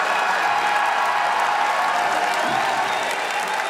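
A large crowd at the 2014 Pokémon World Championship Masters Division final applauds and cheers for the winner, a dense, steady roar of clapping and shouting that fills the whole stretch.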